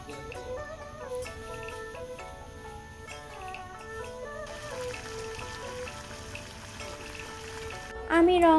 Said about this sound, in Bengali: আম্মু এই ফাঁকে পপকর্নগুলোকে ভেজে নিচ্ছে